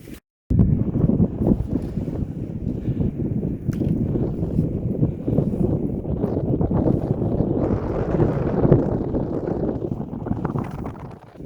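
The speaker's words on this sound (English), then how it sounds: "So, cold wind, temperature about 7 degrees." Cold wind buffeting the microphone on a dry moorland trail along the Stanza Stones route, a continuous loud low rumble with gusts swelling toward the end.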